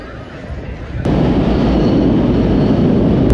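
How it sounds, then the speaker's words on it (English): Brussels metro train riding, a loud, close, continuous rumble and roar of the carriage that swells suddenly after about a second and holds steady. "This metro is so much more chilled than Paris, like literally get a seat really easily"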